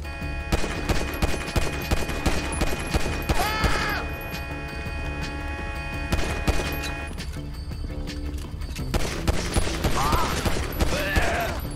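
Rapid bursts of gunfire in the video game GTA V, with metallic mechanical clatter, repeated through the clip, with occasional brief voices in between.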